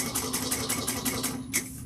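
Sewing machine stitching a seam on a bag, a steady rapid run of needle strokes over a low motor hum, close and fairly loud, with a short pause and a final stroke near the end.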